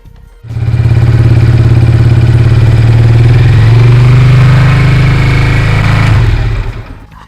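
A Junak RS PRO 125 motorcycle engine starts and idles on a cold day with a steady, loud, throbbing rumble for several seconds before cutting off.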